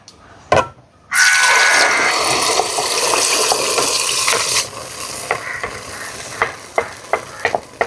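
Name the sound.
blended carrot poured into hot ghee and stirred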